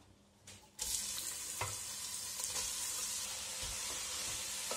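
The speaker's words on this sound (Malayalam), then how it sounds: "നെയ്യ് നന്നായിട്ട് ചൂടായി വന്നിട്ടുണ്ട്. നമുക്ക് ഇതിലേക്ക് ക്യാരറ്റ് ആഡ് ചെയ്ത് കൊടുക്കാം." Carrots hitting hot ghee in a pan set off a loud, steady sizzle after a brief quiet start, with a few faint stirring knocks running through it and no voices.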